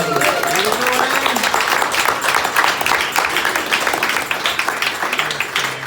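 A crowd at a retirement party claps steadily in sustained applause, dense and loud, with some voices mixed in beneath.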